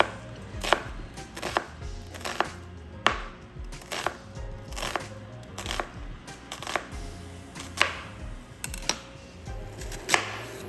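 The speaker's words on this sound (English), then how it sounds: "So let's dice up our onions first." A knife dices a large onion on a cutting board in a home kitchen, sharp regular chops close by, steady and rhythmic, with no talking.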